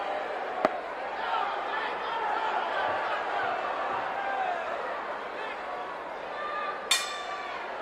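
A ring bell at a Houston Wrestling match between Hector Guerrero and José Lothario strikes sharply twice, several seconds apart, the second ring lingering, over a low murmur of crowd noise in the arena.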